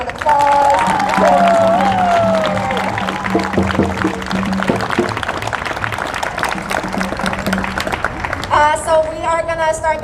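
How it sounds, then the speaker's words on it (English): A crowd at a Stop Asian Hate rally in Seattle claps and cheers in a sustained round of applause, with voices and whoops mixed in and someone speaking over it at times. "Can we give them all a beautiful round of applause?"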